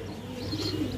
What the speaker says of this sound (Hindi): चमक चेक कर ले भाई, माशाल्लाह से कबूतर